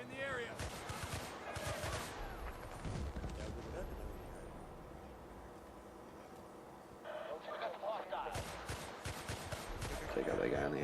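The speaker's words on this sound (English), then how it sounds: "A little M60 ACOG sniping up here." Bursts of M60 light machine gun fire with an ACOG scope in a Battlefield-style multiplayer match on a coastal map. Sharp repeated shots come in two loud clusters with a quieter gap between them, over busy game ambience.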